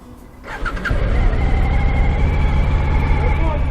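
A 2018 Suzuki V-Strom 1000XT motorcycle engine cranks and catches, then settles into a loud, rumbling idle close by, with a voice briefly heard near the start.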